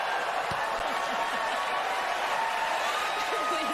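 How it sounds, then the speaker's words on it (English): An audience at the Tony Awards applauds and cheers, a dense, continuous wash of clapping and crowd noise with voices mixed in. "And everybody's cheering."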